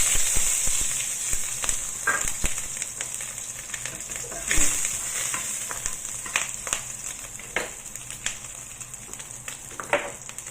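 Dried sweet dropped into hot oil in a pan crackles and sizzles with a steady hiss, scattered sharp pops and spatters, close up and fairly loud, with no talk over it.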